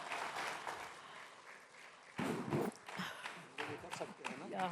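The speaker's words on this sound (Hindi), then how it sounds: "जोरदार तालियां।" Audience applause at the Ideas of India summit as the next session begins, coming in uneven bursts of clapping that swell and fade with some cheering and chatter mixed in, moderately distant.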